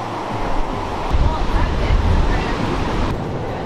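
Pacific ocean surf breaks and roars steadily along the Northern California coast near a cave, a dense continuous wash of waves swelling in the middle, heard close and loud with some wind buffeting the microphone.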